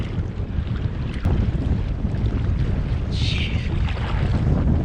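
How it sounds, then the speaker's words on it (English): Strong wind gusts buffet the microphone on an open lake in Michigan while kayaking, a loud steady roar of rushing air and lapping water with no talking. "That is windy."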